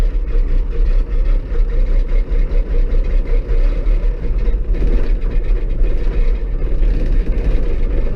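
Cold diesel engine of a bucket truck idling just after start in freezing weather, a loud, deep, steady rumble with a slightly uneven chugging pulse, close by and continuous without talking.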